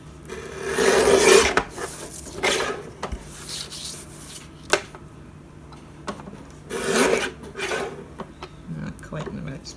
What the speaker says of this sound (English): I'm going to cut this pocket piece. I'm just going to cut around the edges for now